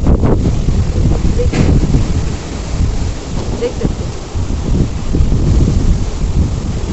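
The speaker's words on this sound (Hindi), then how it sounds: "इधर तूफान आ गया है।" A storm blows hard outdoors, with continuous loud wind buffeting the microphone and rain noise throughout, and someone speaks briefly over it.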